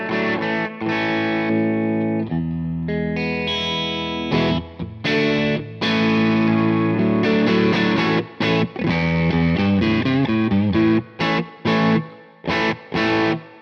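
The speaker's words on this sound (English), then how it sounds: "I have the amp cranked. This is the deluxe reverb, and this is how it sounds like without the fuzz pedal." Single-coil electric guitar played through a cranked Fender Deluxe Reverb amp without a fuzz pedal, gritty overdriven chords and single notes ringing then cut short in a choppy, stop-start rhythm, close and loud.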